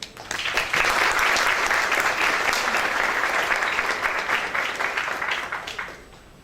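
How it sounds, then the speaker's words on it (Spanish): Audience applause at an academic symposium welcoming a speaker from Chile, a dense steady clapping that swells quickly, holds for several seconds and then tapers off at the end. "Un aplauso para él."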